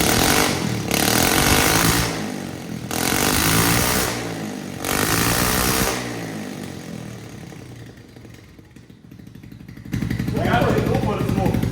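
A modified off-road scooter engine buzzes loudly nearby in rising and falling revving bursts, easing to a lower idle before surging again, with voices talking over it.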